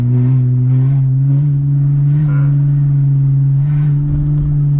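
A Porsche Panamera idles in neutral beside a lake, a steady deep engine drone holding close and loud with slight swells in pitch, no voices over it.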